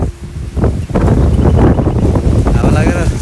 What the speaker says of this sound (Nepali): हावा लागेर